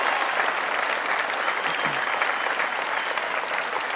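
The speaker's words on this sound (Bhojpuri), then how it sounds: "वाह, तालियां।" Studio audience at a Bhojpuri quiz game show breaks into dense, even applause that holds at full strength from start to finish, with no voices over it.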